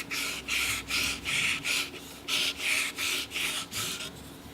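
Sandpaper rubs against the inside of a wooden piece in about ten steady, rhythmic back-and-forth strokes, each a close, gritty hiss with short gaps between.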